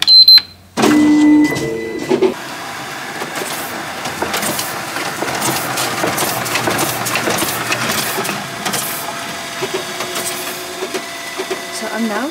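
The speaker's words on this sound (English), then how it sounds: "I'm now just printing these and letting them dry for a week or how long." A Riso printer running red prints churns with continuous mechanical clatter and rhythmic feeding strokes, loud and near, after a brief burst of other noise at the start.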